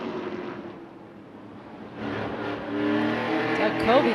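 Race cars roar around Stafford Speedway in a Superstar Racing Experience event, engines building from a muffled drone to a loud rising rev with a sharp whine near the end, while a commentator talks over the noise.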